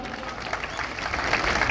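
Applause from a crowd of farmers at a large farmers' protest rally in Nalgonda, a dense, steady patter of clapping that swells slightly toward the end.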